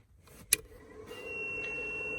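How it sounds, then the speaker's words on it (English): A power inverter powered up beside a truck gives one sharp, high electronic beep, then its small cooling fan spins up into a steady whirring hum with a thin high whine that holds to the end. "You can hear that beep. You can hear there's a fan in this inverter"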